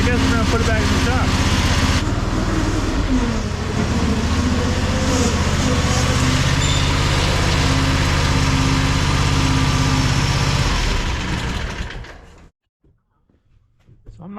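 The diesel engine of a Fland FL45 wheel loader runs at a steady, loud idle with no throttle response, a constant low rumble that drops out abruptly near the end.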